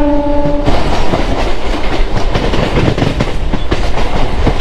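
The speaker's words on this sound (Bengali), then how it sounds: "পরপর দুটো লোকালকে পাস দিচ্ছে।" Local trains on the Howrah–Tarakeswar line roar past close by, a loud continuous rumble with rapid clickety-clack of wheels over rail joints, opening with a brief sustained horn blast.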